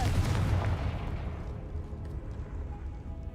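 A Confringo fire spell bursts in Hogwarts Legacy with a loud, boomy explosion right at the start. A rumbling, crackling tail follows and fades over a few seconds.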